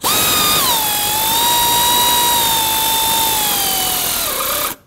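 Power tool runs to snug valve cover bolts on a Ford Flex, a loud, close, continuous whine lasting several seconds that dips slightly in pitch as it works, then stops abruptly.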